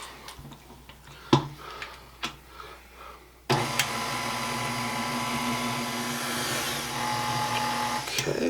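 After a few ticks and taps, an electric mixer whirs to life in maple cake batter, a steady close motor drone with a slight rising pitch lasting about five seconds.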